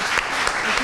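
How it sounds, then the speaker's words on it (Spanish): Audience applause at a lecture on the right to identity, a short burst of many hands clapping in a steady, even wash. "Hay que aplaudir."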